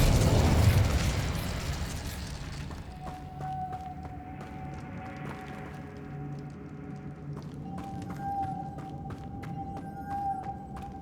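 Fiery spell blasts from Confringo and Incendio in Hogwarts Legacy, a loud burst at the start that fades into crackling, rumbling fire, with sharp pops and ringing magical tones following.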